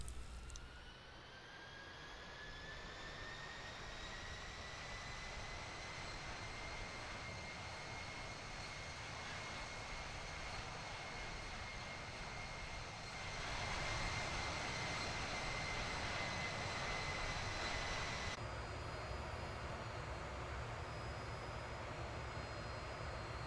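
Aircraft engine in the Infinite Flight simulator game, a steady jet-like roar with a high whine that holds constant, shifting to a louder broadband rush midway before the whine drops out.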